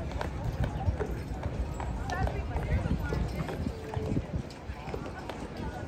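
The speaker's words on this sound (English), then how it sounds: "Oh, the horse and carriage." A horse-drawn carriage passes, hooves clip-clopping at a steady trotting rhythm on pavement nearby by Charleston City Market, mixed with street noise and people talking in the background.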